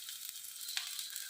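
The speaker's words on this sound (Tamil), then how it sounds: "சின்ன வெங்காயம் நல்லா வதங்கட்டும்." Shallots and garlic cloves sauté in hot oil in a pan, a brief close crackling sizzle with a sharp pop partway through.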